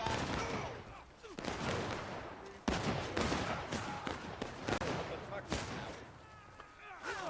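Independent infantry musket fire in the Roads to Appomattox game, scattered cracks and volleys rolling near and far in an irregular rhythm under a busy battle din, with voices mixed in.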